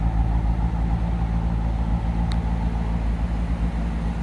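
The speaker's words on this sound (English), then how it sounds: "exhaust out the back. That sounds good." A 1941 Cadillac Series 60 street rod sedan with dual exhaust idles at a moderate distance, giving a steady, smooth low rumble with no talk over it.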